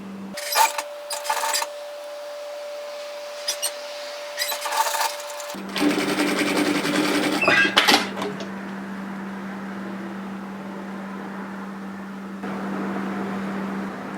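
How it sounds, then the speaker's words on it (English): An overlocker finishes the facing edge of a varsity-style bomber jacket, its steady motor whir starting partway through and running continuously with brief bursts of fabric handling over a constant low hum. "So make sure you overlock that edge to tidy it"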